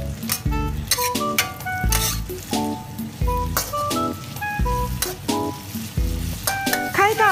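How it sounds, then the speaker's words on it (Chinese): Snow peas, carrots and chili stir-fried in a wok over high heat, loud repeated bursts of sizzling as the spatula tosses the vegetables in a steady rhythm. "开大火继续翻炒"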